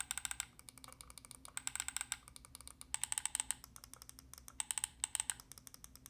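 Side buttons on a Razer Cobra mouse clicked repeatedly in quick, uneven bursts, sharp close-up plastic clicks with brief pauses between groups, no talking.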